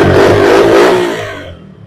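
An ATV quad bike engine revs up under acceleration, a loud buzzing mid-pitched surge that holds briefly and then falls away as the throttle closes.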